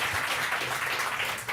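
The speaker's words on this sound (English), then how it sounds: "can we get a big round of applause for Robbie?" An audience at a London tech event fireside chat claps for Robbie, a short burst of dense, steady applause that is fairly loud and carries no talk.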